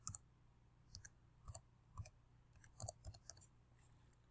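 Keyboard keys tapped to enter an employer ID number, a short run of light, quiet clicks in an uneven rhythm, close by with no talking.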